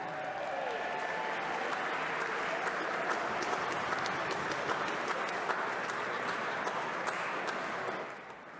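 Sustained applause from a large audience at the IWSC awards for Wine Communicator of the Year Tom Cannavan, a dense, even roar of many hands heard at a distance, steady throughout and tapering off at the end.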